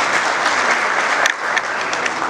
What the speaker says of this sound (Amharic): ለዚህም አንድ ጭብጨባ ያስፈልጋል።